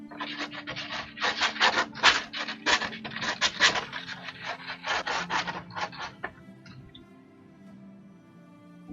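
Dense, rasping strokes of sandpaper on a stack of wooden penguin cutouts, worked to take off burrs. The scratching runs in quick bursts for about six seconds, then fades to quiet rubbing.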